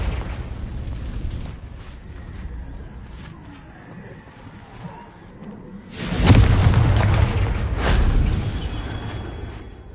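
A Confringo fire spell from Hogwarts Legacy erupts with a loud booming explosion and crackling burst, preceded by a quieter rumble of game ambience.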